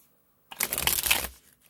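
Tarot cards being shuffled, one brisk riffle of about a second that starts abruptly after silence, close and fairly loud, with no one talking.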